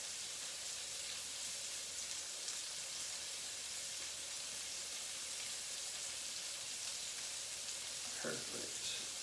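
Onions fry in a pan for beef stroganoff, a steady faint sizzle and hiss throughout, with a brief voice near the end.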